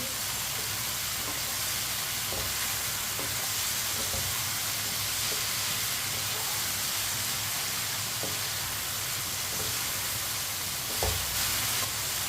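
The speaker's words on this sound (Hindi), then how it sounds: "एक मिनट के लिए सब चीज़ों को फ्राई कर लेंगे।" Potatoes and okra fry together in a pan for aloo bhindi, producing a constant, even sizzling hiss with a low rumble beneath. A few faint stirring clicks surface, and a brief knock comes near the end.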